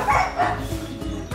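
Dogs at a dog shelter bark repeatedly in a steady rhythm, moderately loud and close, with short yips between the barks.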